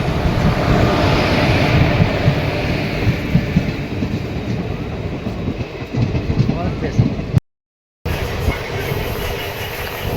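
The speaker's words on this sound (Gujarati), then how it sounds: "અહીંયાથી આપણે રિઝર્વેશન છે અને ટ્રેન પણ આવી ગઈ છે." Passenger train at a station, a continuous loud rumble of the train with wind buffeting the microphone, carrying on steadily apart from a brief dropout near the end.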